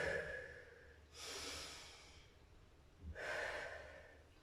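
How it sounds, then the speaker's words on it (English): Two slow, deep breaths, each a long breathy rush of air lasting about a second, close and quiet, separated by a pause during a strength workout for older adults. "Deep breath in and out."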